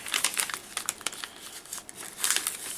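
Paper being folded and creased into a Kylo Ren origami figure, giving soft crinkling and rustling with scattered crisp snaps, close and fairly quiet, no voices.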